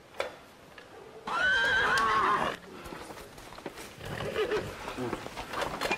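A horse gives a loud, clear whinny lasting about a second, rising and falling, while hauling a grain cart in a rural setting, followed by quieter shuffling and faint movement.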